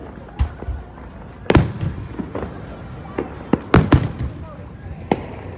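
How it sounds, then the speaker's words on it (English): Fireworks going off outdoors, sharp bangs and pops at irregular intervals, some near and loud, others more distant, over a steady background murmur. "You guys have been watching the fireworks."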